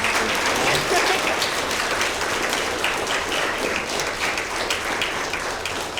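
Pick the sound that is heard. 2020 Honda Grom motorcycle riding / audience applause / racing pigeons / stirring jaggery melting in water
audience applause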